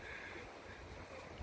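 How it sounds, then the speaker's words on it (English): Steady wind buffets the microphone, a continuous low rumble with airy hiss and no other distinct sounds. "it is a windy day today"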